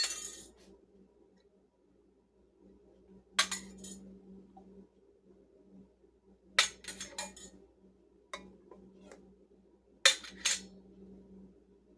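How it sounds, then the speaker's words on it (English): Metal canning lids set onto glass jars, four separate bursts of sharp clinks and rattles spaced a few seconds apart over a faint, steady room hum. "We're going to grab our first canning lid and apply. Get these all covered."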